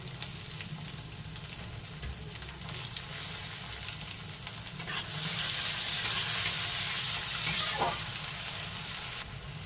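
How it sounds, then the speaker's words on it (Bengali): Onions, green chillies and chopped tomato sizzle and fry in a pan while being stirred, a continuous close crackling hiss that grows louder midway, with occasional scraping of the spoon and no speech. "পেঁয়াজগুলো হালকা ভাজা হয়ে গেছে। এবার দিয়ে দেবো এর মধ্যে কাঁচা লঙ্কাগুলো, এবার দিয়ে দেবো টমেটো কুচি"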